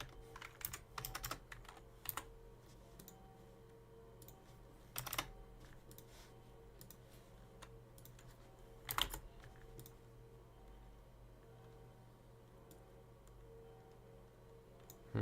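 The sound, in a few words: typing on a computer keyboard while coding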